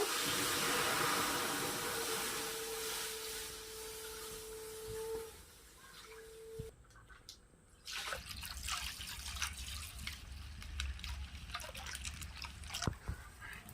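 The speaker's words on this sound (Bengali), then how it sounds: "এবার আমি এই দুধ প্যাকেটগুলো দিয়ে দেব।" Milk from packets pours into a kadai (wok) for a sweet milk dessert, a steady liquid stream running for several seconds before clattering pan noises take over.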